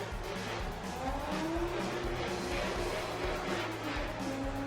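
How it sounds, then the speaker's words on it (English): A drift car's engine bounces off the rev limiter during a Turismo Drift competition in Nashville, a loud continuous stuttering roar with tire squeal and crowd-level background noise. "Thomas just bouncing the rev limiter"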